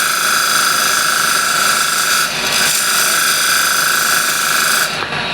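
A woodturning tool scrapes to slightly undercut a bead on a piece of wood spinning on a lathe. The grinding and scraping is steady and close with a thin whining tone, broken by a brief lull partway through.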